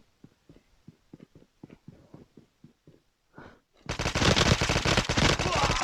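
Automatic gunfire in the Call of Duty video game: a rapid string of short close bursts, then a loud sustained roar of shooting and explosions filling the final two seconds.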